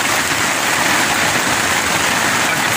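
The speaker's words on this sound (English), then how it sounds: "I can feel the rain beating on the rain fly here." Rain drums on a tent's rain fly in a storm, an even, unbroken hiss heard close and fairly loud with no voices.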